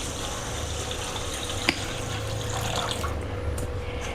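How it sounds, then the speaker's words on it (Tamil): A steady stream of water pours continuously into a cooking pot up close, a constant wash with a single small clink partway through. "இப்போ நல்லா வதக்கிட்டு தண்ணி ஊற்றலாம்."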